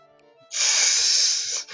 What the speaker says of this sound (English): They reused that fountain spray.